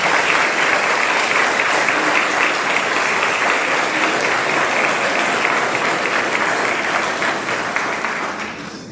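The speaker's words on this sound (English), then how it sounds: "Let's give these students a round of applause." Audience at a high school senior awards assembly gives a long round of steady, dense clapping, loud and even for most of the stretch before fading near the end.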